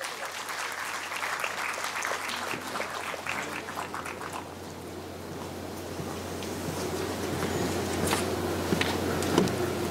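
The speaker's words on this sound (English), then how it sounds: "Let's have a big round of applause." Audience applause in an auditorium at a university address, a soft, even wash of many hands clapping at moderate distance, continuing steadily throughout with a few louder claps standing out.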